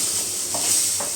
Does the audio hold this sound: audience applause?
no